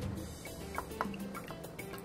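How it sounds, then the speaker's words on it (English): Polish vodka poured into shooter glasses: a short, soft run of dripping and trickling liquid with a few brighter splash ticks, close and quiet, with no talk. "we're gonna pour that shit up halfway."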